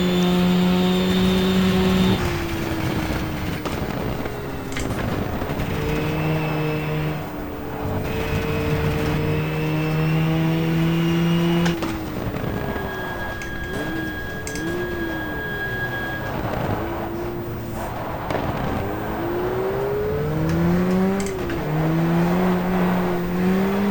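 A 1994 GTR Porsche race car at the Suzuka 4 Hour race, its engine droning loudly in sustained tones that rise and drop with gear shifts through repeated accelerations, steady and close with no talk.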